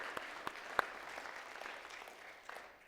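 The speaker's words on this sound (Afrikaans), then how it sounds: "Kom ons gee net vir hulle 'n hande klap" Soft, scattered applause from a church congregation, with a few sharper individual claps standing out before it thins and fades, heard faint and at a distance.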